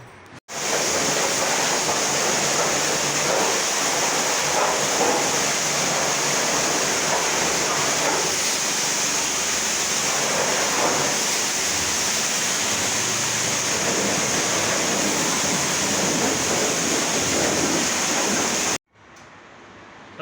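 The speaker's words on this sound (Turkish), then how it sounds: "Şimdi bir yıkayalım şunu." An engine part is rinsed with a strong stream of water after a chemical degreasing, during cylinder-head work where a water pump was found broken apart. The steady loud rush of spraying water is close, runs for about eighteen seconds, and stops abruptly near the end.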